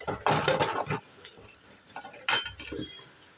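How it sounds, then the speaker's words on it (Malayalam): Stirring chili powder and masala in a curry pan for a beetroot curry: a spoon scrapes and clinks against the pan in irregular bursts, with soft frying sizzle underneath between strokes. "അതുവരെ ഒന്ന് ഇളക്കി കൊടുക്കുക"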